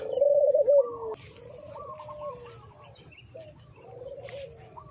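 In a cha-om garden at morning, doves coo in soft rolling phrases that are loudest at first and then fade, while crickets drone steadily in the background.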